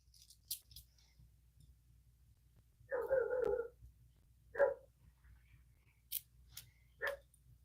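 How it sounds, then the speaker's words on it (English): A big dog barks somewhere nearby indoors, sounding as a burst of gruff barks followed by a couple of single barks, mixed with sharp snipping clicks and quiet background hum. "You hear the big dog barking?"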